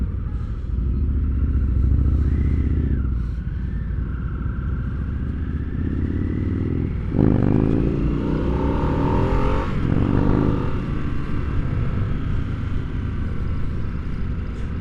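A 2022 Harley-Davidson Nightster rides along with a steady, close engine drone that climbs in pitch as it accelerates hard, then drops back, with wind rush throughout.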